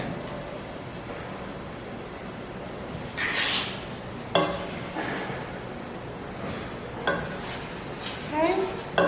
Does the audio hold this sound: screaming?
no